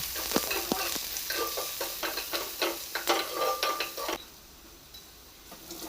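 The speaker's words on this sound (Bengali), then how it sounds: "পেঁয়াজ কুচিগুলো ভালো করে লাল করে ভেজে নেব।" Chopped onions fry and crackle in a pan for a mustard pabda fish curry, with stirring scrapes and utensil taps for about four seconds before the sizzle drops to a soft hiss.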